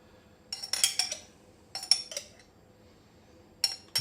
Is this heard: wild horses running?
no